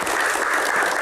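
A seated audience at a keroncong singer's Q&A event gives a short, steady burst of applause that stays dense and even from start to finish.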